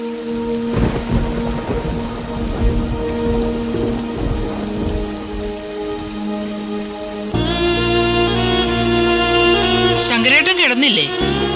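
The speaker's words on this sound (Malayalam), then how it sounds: "നല്ല മഴയല്ലേ" Heavy rain pours steadily through a night scene in a Malayalam TV drama, a constant hiss under background music and occasional speech.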